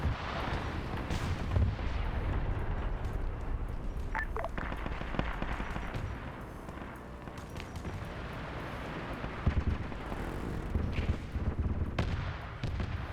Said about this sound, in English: it's their anti-air guns that they're firing locally